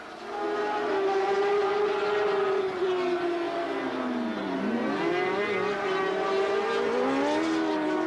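A racing sidecar outfit screams past at Mallory Park during a 1990 Supercup race, its loud, high-revving engine note rising and then sweeping down in pitch as it passes close by, sustained throughout with no talk.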